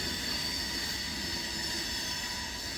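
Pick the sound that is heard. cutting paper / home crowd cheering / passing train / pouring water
passing train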